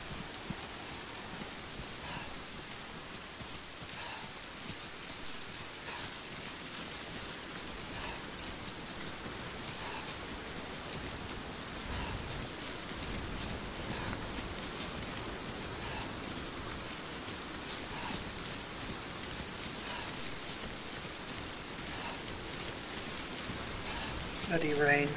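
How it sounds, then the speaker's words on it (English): Steady rain falling outdoors during a nighttime patrol, a constant soft hiss of drops on surfaces that stays even and unbroken throughout, fairly quiet and without other clear sounds. "Bloody rain."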